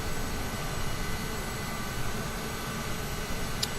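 A CRJ 900 regional jet taxis slowly at New York JFK in Microsoft Flight Simulator 2020, giving a steady, even engine rumble and whine that holds at a constant level throughout, with no talking.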